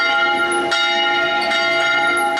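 A church bell rings out for the Easter resurrection, loud and close, with two or three strong strikes whose bright metallic overtones hang and overlap in a sustained, shimmering resonance.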